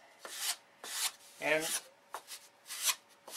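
A small sanding block is worked in arcing strokes across the stabilizer of an electric control-line Thunderbolt model plane, shaping a radius; several close, rhythmic rasping strokes with short pauses, and someone says a word between them.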